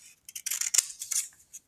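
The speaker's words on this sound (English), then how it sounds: "if I snip off the extra pieces" A pair of poor-quality scissors snips through paper in a quick series of short, crisp cuts, close and clear, with no talking.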